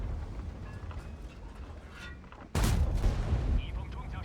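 A tank cannon fires in a tank video game: a sudden loud, booming shot that rises from a low, rumbling background and rings out for a moment before the rumble carries on.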